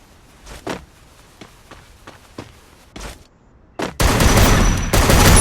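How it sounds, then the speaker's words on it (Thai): Gunshots ring out as a string of sharp, separate cracks at irregular intervals, some close together. They give way to a loud burst of dense, continuous noise. "ใครยิงวะ"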